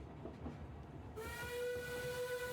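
A rumbling moving train bound for Paris, broadband rolling noise that swells suddenly and carries a steady sustained whistle tone, continuous and fairly close.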